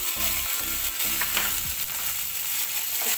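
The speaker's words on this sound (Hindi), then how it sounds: "तड़के के लिए राई डाल रही है" Mustard seeds and curry leaves sizzle and crackle in hot oil as a tempering for sabudana khichdi, a steady loud frying hiss close by with scattered pops, no voices.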